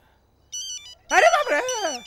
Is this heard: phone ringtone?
yes